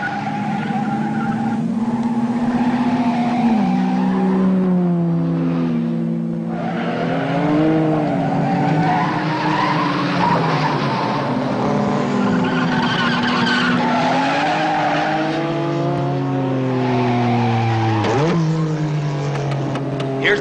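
Race cars slide and skid around a track during a 1950s road race, long sweeping tire squeals rising and falling over steady engine roar, loud and continuous with dramatic music underneath.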